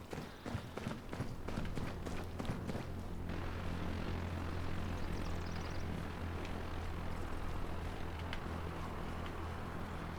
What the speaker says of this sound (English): Alright, I hear an engine.